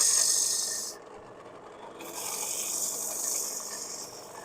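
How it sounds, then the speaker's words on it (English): Sandpaper held against a workpiece spinning on a wood lathe gives a loud, steady abrasive rasp that drops out for about a second, then resumes and continues to the end. "That's neat sanding while spinning."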